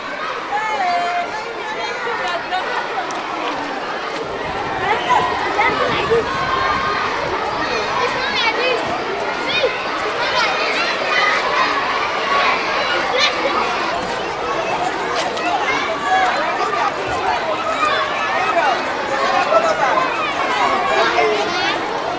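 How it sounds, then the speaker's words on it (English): A large crowd of children and adults gathered at a school gate after classes in Buea, with a continuous dense hubbub of chatter, shouts and running, steady and moderately near throughout. "a large crowd is gathered waiting for the sound of the bell and the opening of the school gate"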